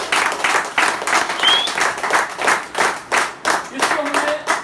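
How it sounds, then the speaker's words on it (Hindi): An audience at a company gathering claps in unison, a loud, steady rhythmic beat of roughly two to three claps per second, close and clear with no speech over it. "ताली मार लो यार"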